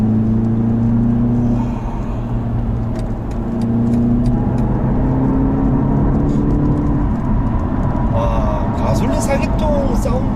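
BMW 530e gasoline four-cylinder engine firing up in the hybrid sedan, a steady droning hum with rising tones under continuous talk from a person inside the car.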